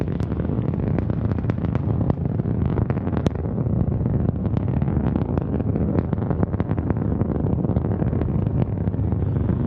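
A Northrop Grumman Antares rocket launching the NG-16 Cygnus cargo ship to the ISS, its stage one engines at full thrust producing a loud, continuous crackling roar with sharp popping bursts throughout.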